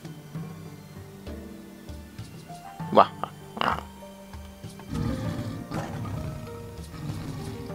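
A tiger in the Minecraft video game lets out a couple of short, loud roaring growls around the middle of the stretch, set over a steady bed of game ambience and low rumbling noise.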